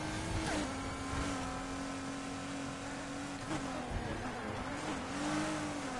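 Engine of a V6-powered street car revving and holding a steady drone while racing and drifting in Need for Speed Heat, loud and continuous with small pitch shifts as it accelerates, no talking.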